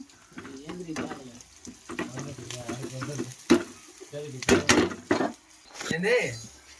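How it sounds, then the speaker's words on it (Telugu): Oil sizzles and crackles in a pan as curry leaves are stirred into the tempering, with bursts of spattering, while a person talks over the cooking. "ఇంకా వచ్చేసి బాగా ఫ్రై చేసేసుకుందాము. దీంట్లోనే కరివేపాకు"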